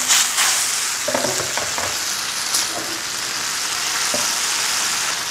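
Chili paste of curly and large red chilies fries for dendeng batokok, a loud, continuous close sizzle broken by occasional stirring scrapes and taps.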